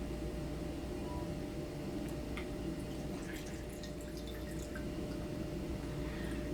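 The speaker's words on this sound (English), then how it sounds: "this one, we pour the water through it" Water poured through a sample filtering device makes a steady, even trickle, with faint scattered drips on top and no voices.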